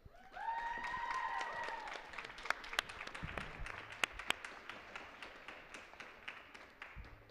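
Audience applause at a student association presidential candidates debate, a burst of scattered clapping from a modest crowd that swells then thins into sparse claps, with a short tone at the start.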